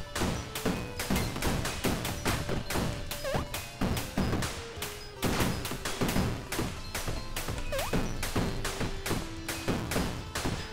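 Rapid double-shot gunfire from an auto-firing roguelike video game, a steady stream of sharp punchy shots in quick pairs running loud throughout over thudding game effects and music.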